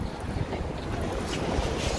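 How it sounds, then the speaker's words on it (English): Wind buffets the microphone while walking in downtown Chicago, a loud, rough, continuous rumble with no voices. "It's a little bit windy, so hopefully you can hear me."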